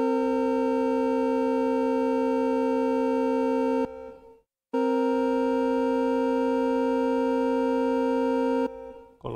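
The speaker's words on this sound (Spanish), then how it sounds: "pasamos a la disonancia de tritono, armónicos 5, 7, notas mi y si bemol" Two complex harmonic-rich tones, E and B-flat, sound together as a tritone dissonance, sustained steady and buzzy, played twice with a short silent gap between.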